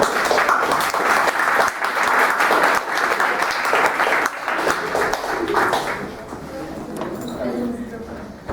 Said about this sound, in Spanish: y un aplauso para todos ellos.